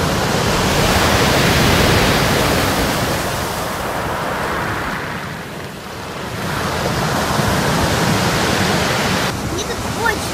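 Black Sea waves washing onto the shore, a loud continuous roar of surf with wind buffeting the microphone, swelling and easing slightly over time.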